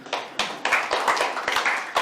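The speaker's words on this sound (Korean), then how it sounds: "박수 한번 쳐줘요." An audience at a Korean Confucian university lecture claps together, a burst of quick hand claps that runs through the full two seconds at moderate loudness, with small pauses in between, from a room full of listeners.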